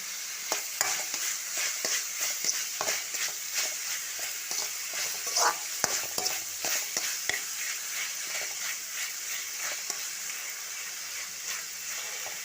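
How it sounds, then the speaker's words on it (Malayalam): Tomatoes cook in a pan for a roasted-coconut mutton curry, sizzling and frying steadily throughout while a utensil stirs and scrapes in repeated bursts, close and fairly loud with no talk. "തക്കാളി ഒരു അഞ്ച് മിനിറ്റ് നല്ലപോലെ വേവിച്ചെടുക്കണം തക്കാളിയുടെ പച്ചപ്പ് മാറി നല്ലപോലെ വേവിച്ചെടുക്കണം"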